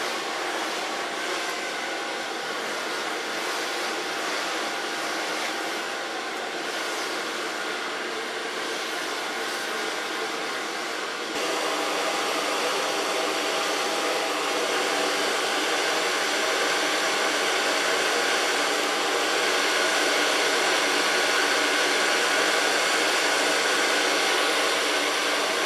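A hair dryer blows hair dry, with a loud, steady, close rushing whir that runs unbroken and grows slightly louder and brighter midway.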